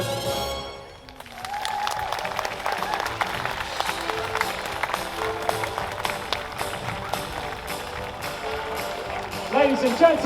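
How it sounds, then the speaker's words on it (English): Audience at a canal festival on the Ashby Canal clapping after a song by a vintage vocal trio, a sustained wash of applause that swells in and holds steady, with voices mixed in. "give them a big round of applause!"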